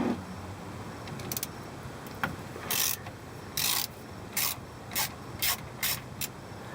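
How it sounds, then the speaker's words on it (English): A bolt on a rear differential cover being unscrewed partway, heard as a run of short, crisp ratcheting bursts in an uneven rhythm over a low background hum, close and fairly quiet. "We're gonna unscrew about halfway, just so when we pop this off, the whole thing doesn't come off."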